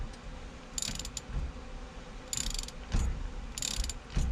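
Ratchet working a nut on a Pontiac steering column, three separate bursts of quick clicking, close and crisp, with a duller knock between them and low handling noise throughout.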